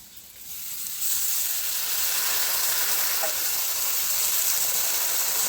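Poppy seed paste and a splash of water hit a hot pan for egg chilli, bursting into a hiss after a quiet second that swells into a steady, close steaming sizzle.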